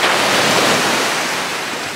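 Ocean waves and surf at Wailea beach, Maui, roar as a steady, loud, broadband wash close by, with some wind buffeting the microphone and no talking.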